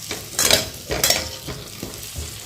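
Dates roasting in ghee in a pan, a soft sizzle under scraping strokes of a spoon stirring, in uneven bursts of a few scrapes, fairly close and moderate in level.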